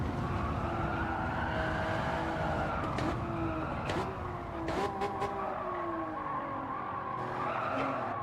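Race car sliding and skidding in a single-make online racing game on worn tyres, with a continuous loud engine drone and sustained tyre squeal across the clip, broken by several sharp scrape bursts.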